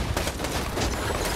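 A gun firing in the Borderlands 2 video game, heard as a dense, loud, continuous rattle of rapid shots with no pauses.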